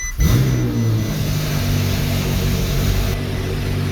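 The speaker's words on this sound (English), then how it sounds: "As you can hear, the car is running." A 2019 Ferrari 488 Pista engine starts with a brief rev, then settles into a steady, loud idle that continues close by.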